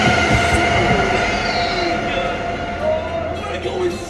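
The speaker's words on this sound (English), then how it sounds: "Oh, Choo Choo Charles!" The Choo Choo Charles monster train from a video game rumbles and clatters loudly and steadily, with wheel squeals and a faint drawn-out whistle-like tone, while people talk excitedly over it.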